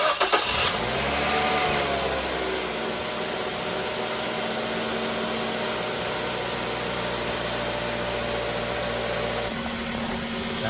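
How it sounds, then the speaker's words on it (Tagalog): A 2003–2009 Mazda3 engine cranks and catches after an oil change, then settles into a steady close idle with a low hum and faint whine, holding until it drops slightly near the end. "So we're gonna start the engine."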